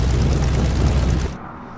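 A vintage aircraft engine roars loud and close in a flight simulator on a Papua New Guinea bush strip, a heavy steady drone that drops off abruptly as it is throttled down about 1,000 RPM.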